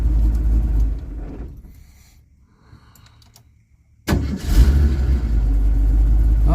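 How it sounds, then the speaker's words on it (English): A 1970s Ford Mustang engine with heat soak and hard starting problems runs, shuts off, then quickly fires back up and settles into a steady, loud, close idle. "I'm going to turn it off, see if it'll restart."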